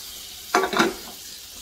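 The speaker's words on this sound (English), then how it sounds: "Now these eggs, we are going to cook them just regular old sunny side up." Sunny-side-up eggs hit a hot buttered pan with a short bright sizzle that swells and fades within half a second, close and alone.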